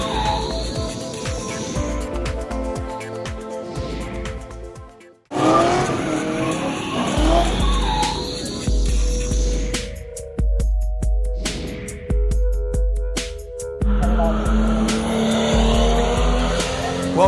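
Race cars in the KZN racing class roar through a street circuit at the Ballito Street Heroes 2014 event, with loud engine drones, tire squeals and skids, a brief near-silent gap midway, then sustained close racing noise.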